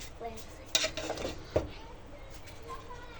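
A spoon clinks and scrapes through cooked biryani in a metal pot, with a couple of sharp knocks early on, then quieter stirring.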